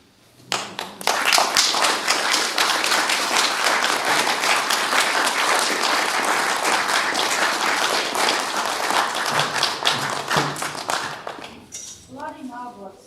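An audience at a church forum talk breaks into loud, sustained applause, dense clapping that swells quickly, holds for about ten seconds and tapers off, followed by a voice speaking briefly.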